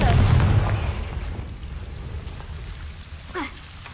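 Confringo blasting spell fired in Hogwarts Legacy, a loud booming burst at the start that fades into a low rumbling tail, with a faint whooshing sweep shortly after.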